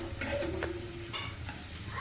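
Onions sizzle softly in a pan at the start of a pulao, a faint, steady crackle with light stirring scrapes and a brief metallic tone.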